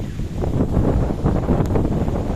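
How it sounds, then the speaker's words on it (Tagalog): Strong wind by the sea buffets the microphone in a steady, rough roar with low rumbling gusts, no voices, continuous throughout. "napakalakas po na hangin"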